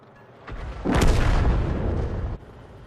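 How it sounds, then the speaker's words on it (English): An artillery shell from a 105 leFH18B2 howitzer lands beside a tank destroyer in a tank combat game, giving one loud, close explosion with a broad rumbling blast that holds for over a second before cutting off. "the shell lands to one side of the TD"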